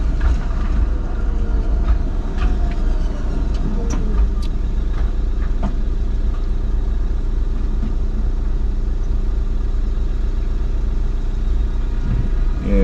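A tram moves through Bucharest traffic in winter, a continuous low rumble of wheels and motors with scattered squeals and clanks heard from inside a car, steady throughout with no talking.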